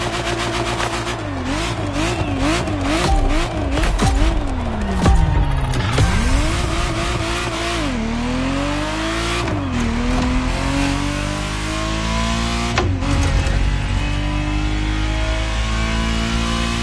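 Ferrari Testarossa engine in a racing video game, revving hard through repeated gear shifts with rising and falling pitch sweeps, loud and continuous throughout, with brief tire squeal and no talking.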